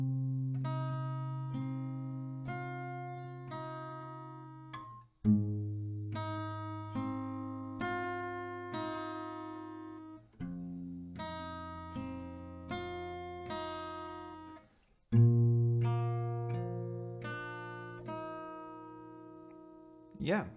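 Acoustic guitar picking the intro melody of a song slowly, plucked notes ringing out in four unhurried phrases, each starting with a stronger strum, quiet and alone.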